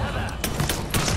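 Grenade blasts and gunfire in the Mafia 3 video game, several sharp broadband bursts over about a second with a continuous rumble of game noise underneath and no talking.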